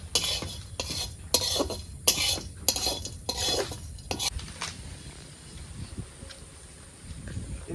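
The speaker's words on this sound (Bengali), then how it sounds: "গোটা গরম মশলাটাকে আমরা ভেজে নেবো" Whole garam masala spices stirred and scraped in a pan over low frying, with a run of rhythmic metallic stirring clinks for about four seconds, then a quieter settle.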